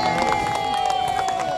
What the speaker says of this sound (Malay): Berikan tepukan sikit.